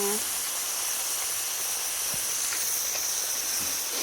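Water is splashed into a hot pan of stir-fried eel, setting off a loud, continuous steaming hiss and sizzle that fills the whole stretch at close range.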